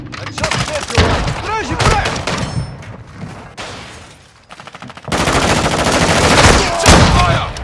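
Gunfire in Call of Duty: Modern Warfare II, with loud bursts of automatic fire and sharp single shots in rapid volleys, briefly dropping away before heavy sustained shooting resumes, voices mixed in.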